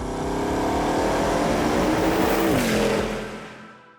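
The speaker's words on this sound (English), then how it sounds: "The last ever outing of Bugatti's remarkable 8-litre quad-turbo W16 engine." A Bugatti Bolide's 8-litre quad-turbo W16 engine roars loud and close on a track, a dense sustained howl that dips in pitch as it shifts, then fades away over the final second.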